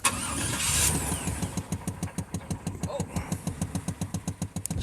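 A 1996 GMC Sierra pickup truck cranks and starts roughly, with a brief whine followed by a rapid, rhythmic chugging that evens out into an uneven idle, close to the listener.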